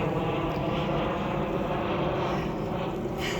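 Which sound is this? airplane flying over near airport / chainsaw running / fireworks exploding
airplane flying over near airport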